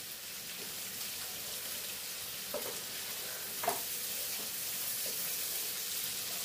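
Sliced onion sizzling steadily in a pan for a prawn fry, with a few louder scraping stirs of a spoon standing out above the constant frying hiss.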